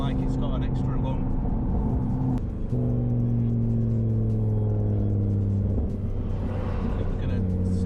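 Audi TT RS stage 3 with a big turbo drones loudly from inside as it accelerates through gears, engine pitch climbing and dropping at each shift, with someone talking over the steady powerful rumble.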